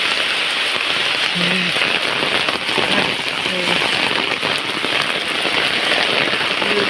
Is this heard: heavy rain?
yes